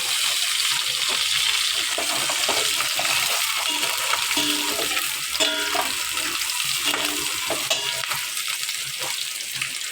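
Spices frying in a pan on a gas stove, a steady, busy sizzle and crackle with light stirring scrapes, close and continuous throughout.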